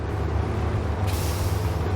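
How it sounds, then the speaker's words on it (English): A heavy truck in SnowRunner, set on Island Lake in Michigan, strains in second gear with a steady, loud, low engine drone. A brighter hiss joins partway through, and no one speaks. "Guess second gear was a little too much for the truck."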